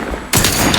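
Gunfire in the video game The Outer Worlds 2 erupts after a quiet moment, a loud burst of rapid shots filling the remainder of the short clip.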